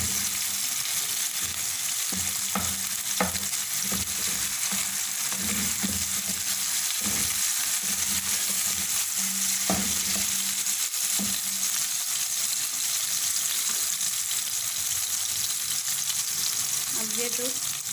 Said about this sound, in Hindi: जिस चम्मच के साथ काट हैं उसी के साथ थोड़ा सा इनको मैश कर लेंगे